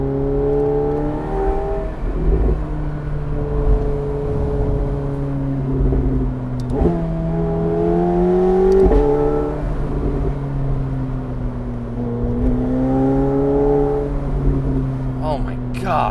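A McLaren 750S Spider supercar at high speed, its engine holding a steady drone that rises in pitch through each gear before dropping sharply at two shifts, heard continuously from inside the car.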